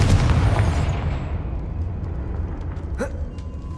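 An explosive Confringo spell in Hogwarts Legacy bursts with a loud booming blast at the start, then fades into a long rumbling tail, with a small sharp crackle near the end.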